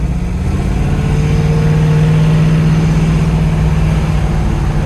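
A 1967 Chevrolet Nova's engine running loud and close, a deep steady rumble that rises gently in pitch as it revs, with no talking over it.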